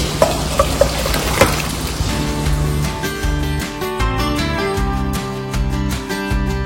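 Mustard seeds and onion frying in hot oil for a light dal, a steady close sizzle with crackles and popping, and stirring clatters on the pan, no talk.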